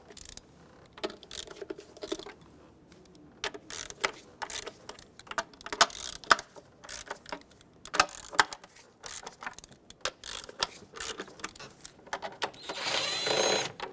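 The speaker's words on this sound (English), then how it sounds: "I'm going to work my way from the outer bolts to the inner bolts, just breaking them free." Intake bolts on a 3.6L Dodge Grand Caravan are broken free one after another with a ratchet or power tool, giving short separate bursts of clicking and whirring with quiet gaps between them.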